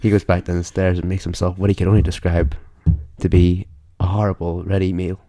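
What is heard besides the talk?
No everyday noise stands out behind the speech.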